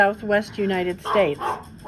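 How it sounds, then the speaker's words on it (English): A dog barks several times in short yapping bursts beneath someone talking, fairly close and about as loud as the voice. "Pardon the dog, I'm sorry."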